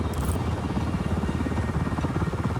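A helicopter in the video game Just Cause 4 drones with a steady, loud, throbbing rotor chop that stays constant and unbroken throughout.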